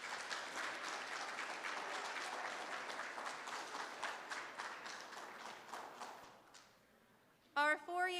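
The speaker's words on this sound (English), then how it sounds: "Can we give our third year band members one more round of applause" Guests at a band and choir banquet give the third-year band members a round of applause, steady clapping that thins and fades before a voice begins speaking at the close.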